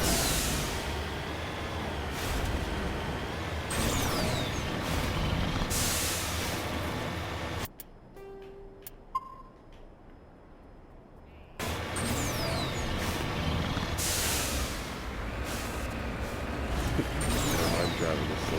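A vehicle drives through Mass Effect Legendary Edition gameplay, a dense rumbling and hissing engine roar that cuts out for a few seconds midway, leaving faint blips, then surges back.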